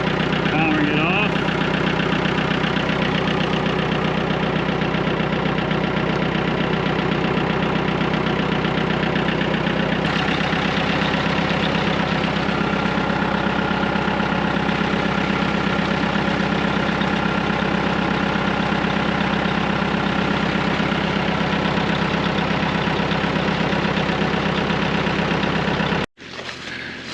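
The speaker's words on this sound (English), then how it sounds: "if you listen up ahead, you should hear the tractor running" A Massey Ferguson MF-255 tractor engine runs at a steady idle, a continuous low mechanical drone and rumble that holds even for nearly half a minute before cutting away abruptly at the end.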